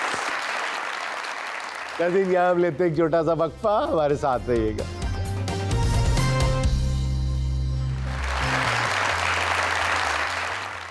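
Studio audience applause for the winner of a beauty cream contest on a talk show. It swells loudly near the start, fades under a host's spoken announcement, then returns as a dense, sustained round of clapping at the end.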